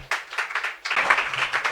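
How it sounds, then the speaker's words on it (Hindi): An audience claps for a singer at a Hindi music show, with a brief burst of applause that dips and then swells again. "जोरदार तालियां रविनाथ जी के लिए"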